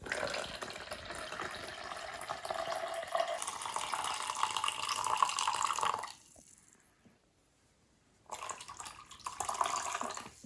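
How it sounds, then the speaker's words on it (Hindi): Coffee poured steadily into a glass, a continuous trickling liquid stream for about six seconds that stops briefly, then resumes. "तो ये मैं डाल रही हूँ इसमें कॉफ़ी।"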